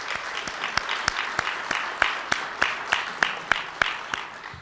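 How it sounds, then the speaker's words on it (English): A room of attendees at a Rotary club meeting claps together, a steady round of applause with distinct rhythmic clap peaks roughly every third of a second, moderately near. "Can we give them a round of applause?"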